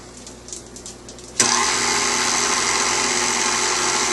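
An electric mixer switches on abruptly after a quiet start and keeps whirring steadily while spinning homemade frosting, a loud, close, sustained motor drone with no talking.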